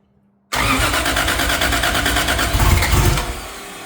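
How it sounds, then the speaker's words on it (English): A 1951 Ford F1 truck engine cranks and catches abruptly after a brief silence, then settles into a loud, steady, rough idle that swells slightly before easing off near the end. "we'll give you a little startup and idle log here"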